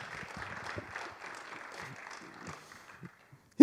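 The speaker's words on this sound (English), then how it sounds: "A round of applause for Steve Chisnell, everybody." An audience applauding Steve Chisnell at a leadership talk, a soft spread of clapping that thins out and fades to near silence, ending on a sudden close thump.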